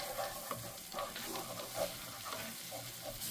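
Flour is stirred into melted butter in a pot, giving a soft continuous sizzle with scraping stirring strokes, quiet and close, with no voices.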